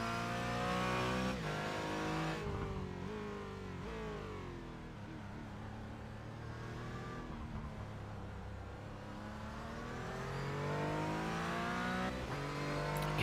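BMW race car engine in the iRacing sim racing game during a night stint of the Nürburgring 24-hour race, revving up and down through gear changes with a sustained loud drone and rising and falling pitch, no speech.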